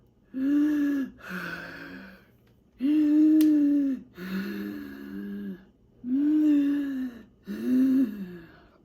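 A voice imitating a monster's scary, mouth-breathing panting: six slow, heavy breaths grouped in pairs with short pauses between, close and fairly quiet.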